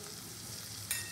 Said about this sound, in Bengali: তেলটা গরম করে প্রথমে আমি আলুগুলোকে একটু হালকা করে ভেজে নেব।